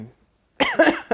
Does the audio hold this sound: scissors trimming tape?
no